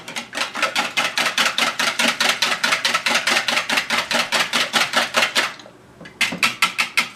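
Rapid, steady whisking of salt and pepper into a bowl, fast rhythmic clicks of a whisk against the bowl that pause briefly near the end and resume, close and fairly loud with no talking.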